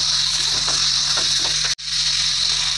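Meat with salt sautéing in a hot pan for a green-chilli-paste meat curry, a steady loud sizzle throughout with faint stirring scrapes and a brief drop-out near the end.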